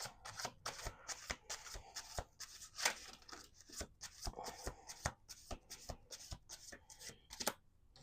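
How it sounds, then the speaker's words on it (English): Tarot cards are shuffled repeatedly, with crisp riffling and slapping in a steady, busy rhythm, up close and with no talking. "Let's do 2 more shuffles."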